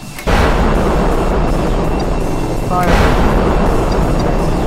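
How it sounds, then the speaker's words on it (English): Two missiles launched in Kerbal Space Program during a land warfare battle, each launch a loud booming roar, the second starting a few seconds after the first and both sustained, heard close up. "I'll fire 2 missiles"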